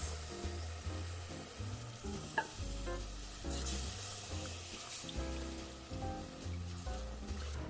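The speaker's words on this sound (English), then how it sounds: "now it's time for me to go ahead and add my milk into my roux" Milk poured into a roux in a pan for a loaded hashbrown casserole sauce, with a soft sizzle and frying hiss under repeated scraping and stirring strokes, close and fairly quiet.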